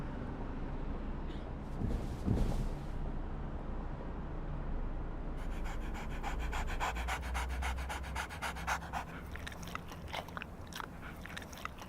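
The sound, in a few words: dog panting in a car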